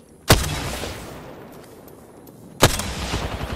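Two loud, sharp gunshots in Apex Legends ring out about two seconds apart, each a sudden crack trailing into a long fading echo over faint background ambience.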